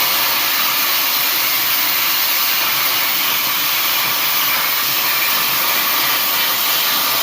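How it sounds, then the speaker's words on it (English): Plasma cutter notching metal on a Ford 861 tractor three-point hitch repair: a loud, steady, close hissing roar of air and arc that runs unbroken with no pauses. "so plasma cutter, I've got everything set up here, I think properly"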